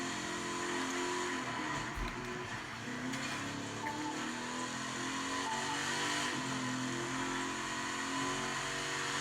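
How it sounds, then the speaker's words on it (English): A Ford Mustang Shelby GT500 engine in a driving video game hums and revs continuously at moderate loudness, a steady mechanical drone with slight swells in pitch. "Usually the Mustangs in this game don't sound like any other real Mustangs, but this one does"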